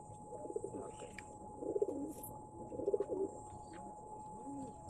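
Pigeons offered for sale coo in low, soft, repeated rolling phrases, several bursts over a steady background hum.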